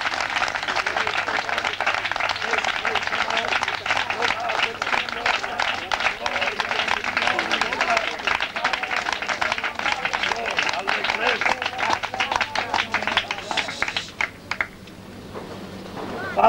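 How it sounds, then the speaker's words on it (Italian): Loud, sustained clapping from a church congregation, dense and continuous for most of the stretch, then fading abruptly near the end. "Vogliamo applaudire."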